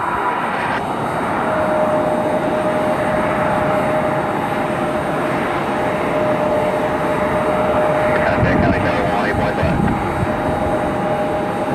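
A Southwest airliner taxis on the ramp at Cleveland Hopkins Airport, its jet engines giving a steady, loud whine and rumble that holds for the whole stretch, with faint background noise.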